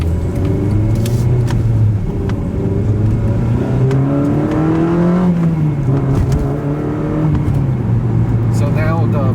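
A Honda FD2R engine with a fresh flash tune revs up and down in several rising and falling sweeps as VTEC engages, loud and close, while someone talks over it.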